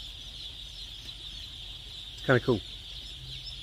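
A steady high chorus of chirping from thousands of chickens fills a chicken house, with a short burst of nearby speech partway through.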